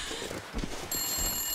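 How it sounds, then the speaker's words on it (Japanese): Telephone ringing inside the survival video game The Long Dark, a continuous electronic ring with steady high tones starting partway through, over a low rumbling game ambience. "電話が鳴っとんね。"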